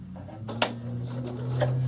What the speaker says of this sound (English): And I'm just going to stitch this cute little stitch through the middle to give me my lovely little variegated finish.